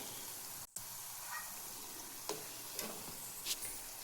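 Chakli frying in a pan of fully heated oil, a steady broadband sizzle with a few faint stirring clicks and one brief dropout near the start, no talking.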